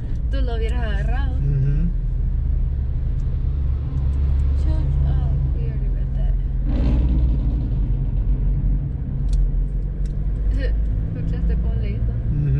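A vehicle with a very big engine rumbles and revs on a neighborhood street in Estelí, a deep, loud, steady drone under people talking.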